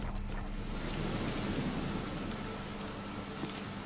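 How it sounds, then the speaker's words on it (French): Steady rain pours with a low rumble of thunder during a storm in The Witcher 3, a continuous, soft wash of sound without voices. "Un orage. Manquait plus que ça."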